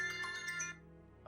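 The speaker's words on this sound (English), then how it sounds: "apparently it's 3:30 now and that's my alarm to start getting ready for work." A phone alarm ringtone goes off close by, a bright repeating electronic melody playing steadily before cutting out, with a brief bump of noise at the very end.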